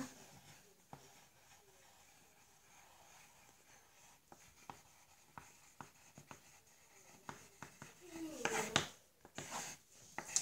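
Pencil scratches faintly across paper as words are written at the top of a drawing page, with soft, close strokes and light taps growing slightly busier toward the end.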